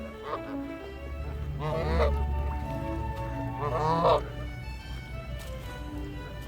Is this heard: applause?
no